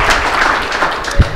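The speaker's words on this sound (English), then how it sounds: "Let's give a round of applause to all of the wonderful teams, the wonderful hackers that put such great projects together." Audience applause for hackathon teams at a tech event hosted at a venue, a steady wash of many hands clapping throughout, fairly loud and continuous with a brief thump near the end.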